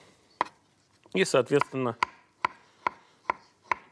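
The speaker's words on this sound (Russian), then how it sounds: "Сейчас нарезаю авокадо примерно, как выглядят креветки." Knife slicing through avocado on a cutting board, with sharp, evenly spaced chops, one early and then five in a steady rhythm, after someone speaks briefly.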